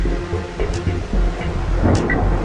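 Heavy rain hisses steadily while a low thunder rumble rolls underneath, loud and close throughout.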